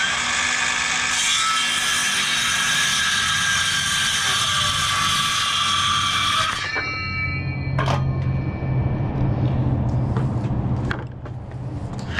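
A power tool drives screws into a pallet-wood barn door for a chicken coop, a loud continuous whine that stops partway through, followed by lower rumbling and a few sharp knocks.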